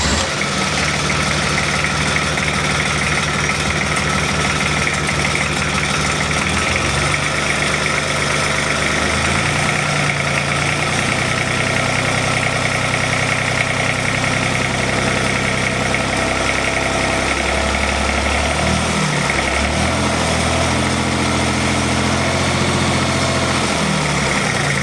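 An Isuzu 3LB1 three-cylinder diesel engine idles steadily after a cold start following years of sitting, a loud, close, continuous low rumble with vibration and a slight knocking beat that shifts in pitch partway through.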